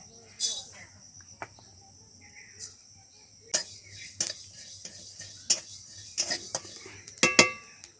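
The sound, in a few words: stirring fennel and fenugreek in wok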